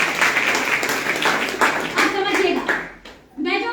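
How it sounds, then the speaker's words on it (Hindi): An audience at a business plan presentation claps together, a dense spread of hand claps running for about three seconds with a voice speaking over it, then the clapping fades as her voice continues alone. "एक बार ताली बजा दीजिए"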